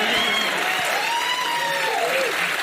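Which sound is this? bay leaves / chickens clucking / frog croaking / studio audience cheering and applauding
studio audience cheering and applauding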